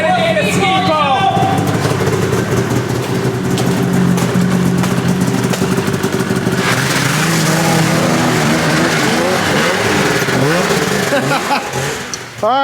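A classic XC500 high-performance twin snowmobile engine revs loud and close in snowy slush, its pitch rising and falling through sustained throttle bursts, with voices at times over the roar.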